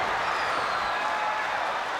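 A wrestling arena crowd roars steadily for Dustin Rhodes at WCW SuperBrawl IV, a continuous wash of cheering and applause from a large audience filling the hall without a break.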